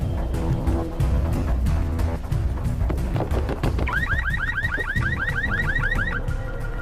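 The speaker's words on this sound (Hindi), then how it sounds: "वो गाड़ी का अलार्म बज रहा है।" A car alarm on a green Volkswagen starts up partway through, a loud repeating electronic whoop of rising tones, following a stretch of loud, busy background noise.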